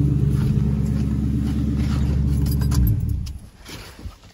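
A Ford Crown Victoria V8 idling right after startup, a loud steady low rumble close by that cuts off sharply near the end, leaving faint clinks and handling noise.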